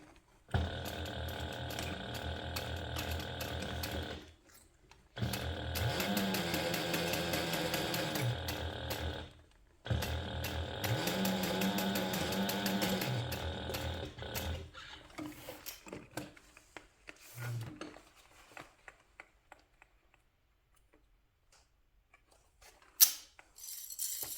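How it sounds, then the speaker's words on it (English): Sewing machine stitching a handbag seam at a half-inch seam allowance, two steady runs of mechanical whirring separated by a short pause, followed by quieter handling clicks and rustles. "So here we're going to sew this together using a 1/2 inch seam allowance."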